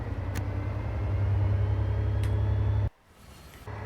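A BR363 shunting locomotive in a train simulator rolls along with a steady, loud low rumble. The rumble cuts off abruptly near the end, then returns more quietly after a short lull.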